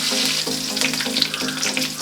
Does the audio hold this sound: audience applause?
no